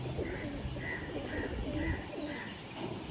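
Pigeons cooing, including a fancy double-crested pet bird: soft, repeated rolling coos in a steady rhythm, close by, over a busy background murmur.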